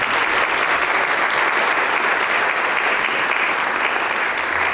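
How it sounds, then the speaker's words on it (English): Steady, dense applause from a crowd as musicians come on stage at an acoustics and music talk, loud and continuous throughout with no pauses or voices breaking through. "Give them a round of applause."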